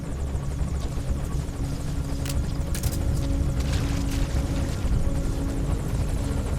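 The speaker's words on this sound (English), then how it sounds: "looks like the helicopter has moved into a holding pattern here" Helicopter in the Metal Gear Solid V: The Phantom Pain video game, a steady low rotor drone and engine rumble hovering nearby, continuous and fairly loud with a few brief sharp clicks over it.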